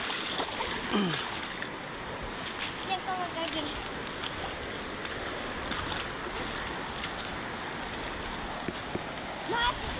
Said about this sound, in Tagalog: lumalakas lalo yung ulan